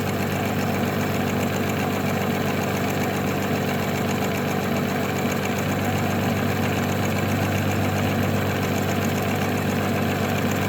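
A 1968 Oldsmobile 4-4-2 V8 idles steadily at a low 450 RPM, a continuous loud, even rumble with a slight knocking pulse, heard close with no talk.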